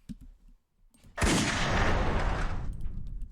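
Gunfire from a weapon in the Roblox Piggy game, a sudden loud burst of shots that keeps going as a dense, sustained roar for well over a second before cutting off.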